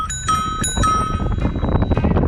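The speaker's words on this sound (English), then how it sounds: "It's got its little bell." A small bell on a rental bicycle rings twice with bright, clear dings close by, followed by faint rattling and rolling noise.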